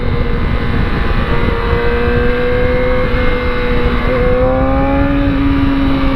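Close, loud motorcycle engine rising in pitch as it accelerates, a steady rumble with climbing tonal harmonics and constant wind noise, no talking.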